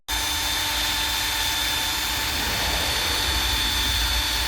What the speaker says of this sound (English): I'm just going to give it a bit of a shine up with the drill